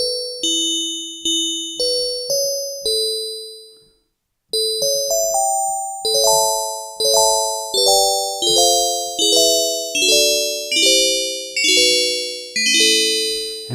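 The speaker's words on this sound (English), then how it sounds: "If I increase the sustain, or the release time, sorry, of the envelope generator, I can make it sound more like bells." FM synthesizer bell-like tones from two sine waves on an analog synthesizer ring out in a stepping melody, each bright strike decaying slowly, with a brief silent gap before the notes continue and overlap.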